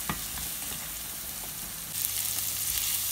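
Minced garlic sizzling and browning in oil in a frying pan, a steady close crackle with a few light stirring clicks, the frying growing slightly brighter toward the end.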